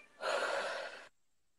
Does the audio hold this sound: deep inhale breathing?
yes